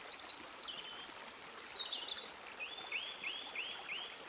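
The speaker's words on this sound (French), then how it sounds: "Vous entendez à la place le chant des oiseaux, le vent entre les feuilles et les clapotis d'un petit ruisseau" Birds chirp and trill in repeated short phrases over a steady, soft wash of running water from a small stream.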